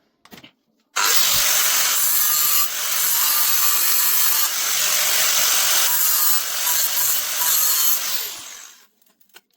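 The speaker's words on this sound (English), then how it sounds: "After angle grinding and smoothing it off a bit with a Dremel, that's now not catching anymore." An angle grinder grinds down a part on a two-stroke bicycle engine build, a loud, steady, harsh abrasive whine running about eight seconds with slight dips, starting abruptly and trailing off at the end.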